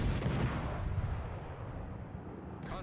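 Heavy naval gunfire rumbles in the World of Warships: Legends video game, a dense, loud, booming roar that fades slightly before a faint sharp sound near the end.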